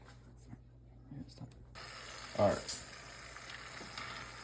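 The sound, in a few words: tortillas frying in a pan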